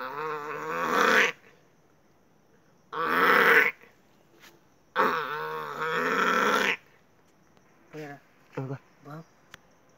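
A man imitates a buffalo, giving three long, loud, drawn-out lowing bellows, then a few short grunting calls, close and alone.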